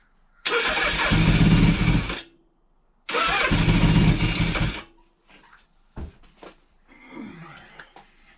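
A 1983 Suzuki GS 1100E motorcycle engine cranking after a year-long build: two loud, close bursts of whirring starter cranking of roughly two seconds each, separated by a pause, followed by quieter clunks and rustling with no catch.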